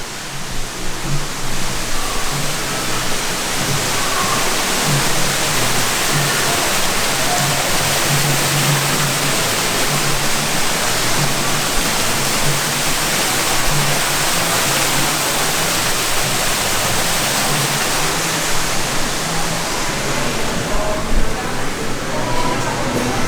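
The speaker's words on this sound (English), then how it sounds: "This is kind of like an atrium area here with waterfalls and everything else" Indoor waterfalls in a hotel atrium pour steadily, a broad, even rush of falling water that fills the space without pause, with faint murmurs of people beneath it.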